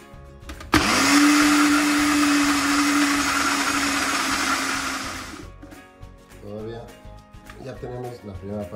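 A blender grinds basil leaves and olive oil into pesto Genovese, a loud steady whir running for about five seconds, then cutting off as a voice speaks.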